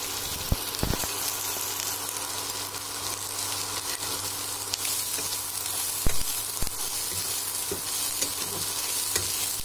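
Curry leaves fry in hot oil, with a steady close sizzle filling the whole stretch and occasional sharp clinks and scrapes of a stirring utensil against the pan.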